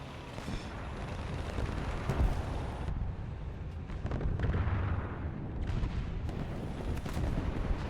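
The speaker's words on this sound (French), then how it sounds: "Ça tire depuis le village, ouais." Gunfire rings out in a video game as shots come from a village, dense overlapping bangs and booming blasts sustained for several seconds at a loud, steady level.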